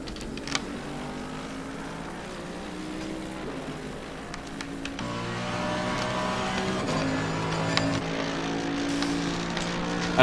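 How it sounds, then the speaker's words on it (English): A Mercedes-AMG GT3 race car in Assetto Corsa Competizione at Bathurst drives down the mountain straight, its engine droning steadily and rising through the gears, with a shift midway and a continuing high-revving roar. "As we are now on board with Craig Bray in the Mercedes-AMG GTR going down the mountain straight."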